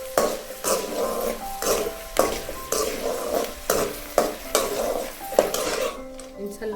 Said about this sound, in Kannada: ಸಿಮ್ಮಲ್ಲೇ ಚೆನ್ನಾಗಿ ರೋಸ್ಟ್ ಮಾಡ್ಕೊಳ್ಬೇಕು ಶೇಂಗಾನ, ಇಲ್ಲಾಂದರೆ ಫುಲ್ ಕಪ್ಪು ಆಗ್ತದೆ